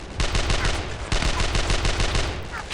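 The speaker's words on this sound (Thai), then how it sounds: "เห็นแสงปืนก็ยิงต่อกลับไตรงนั้นแหละ" Rapid bursts of automatic gunfire from the World War II shooter Brothers in Arms: Earned in Blood, loud and close, with dense rhythmic cracks that pause briefly before resuming.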